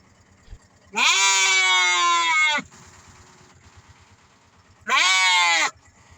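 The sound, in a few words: sheep bleating at rural village market in Ghana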